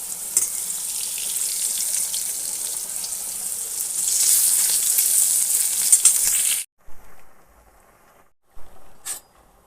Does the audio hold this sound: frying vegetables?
yes